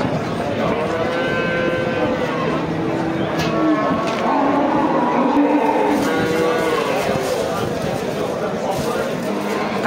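Cattle at a cow market in Piskent district, Tashkent region, moo repeatedly in long, drawn-out calls, some near and some farther off, over steady market bustle while people talk nearby.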